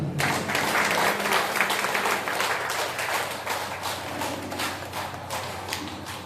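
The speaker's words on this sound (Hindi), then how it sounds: "हमारे कोच साहब मिस्टर मनमोहन राठौर जी के लिए जोरदार तालियां।" Sustained, dense clapping fills the room as an audience applauds a coach at a training session in India, steady and loud throughout with no break or talk.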